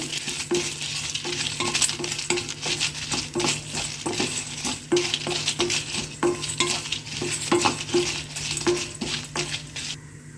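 Fenugreek, cumin, dry red chillies and chana dal dry-roasted in a pan, stirred with a metal spoon that scrapes and taps in a steady rhythm over a faint dry crackle, close and clear with no talking.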